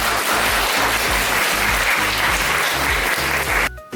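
Loud, dense applause from a comedy festival audience greeting three comedians at a humour and satire event in Lom, steady and sustained, with rhythmic low thumps of music beneath, cutting off abruptly near the end.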